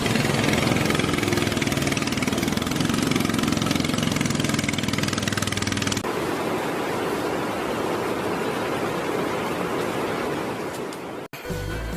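A river boat engine runs on a river with rapids in the Bukit Raya area, a loud, steady mid-pitched drone with rushing water noise. The tone changes abruptly halfway through and there is a brief cut near the end.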